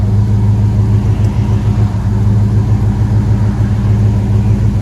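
Loud, steady, throbbing idle from the true dual exhaust of a 1975 Chevy Monte Carlo fitted with Flowmaster 40 Series mufflers, heard up close with an even low pulse throughout.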